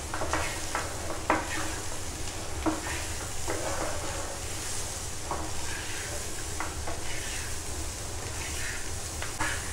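Fried chickpeas seasoned with salt and red chili powder sizzle steadily in a pan while a spoon stirs them, scraping and clinking at irregular moments over the continuous close frying hiss.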